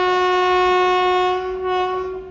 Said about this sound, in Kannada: ಟ್ರೈನ್ ಎಷ್ಟು ಸ್ಲೋಲಿ ಬರಾಯ್ತು ನೋಡ್ರಿ.